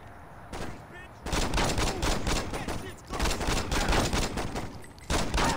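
Rapid gunfire bursts in the video game Saints Row, loud and sustained in repeated volleys with brief gaps, some voice faintly mixed in.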